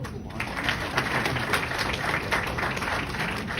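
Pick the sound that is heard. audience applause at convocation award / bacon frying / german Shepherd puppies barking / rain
audience applause at convocation award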